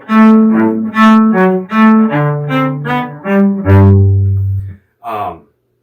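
Cello playing a phrase from Marcello's Allegro from Suzuki Cello Book 4, in a different key: bowed moving notes alternating with lower notes in short, loud, close strokes, closing on a long low note followed by a brief extra stroke.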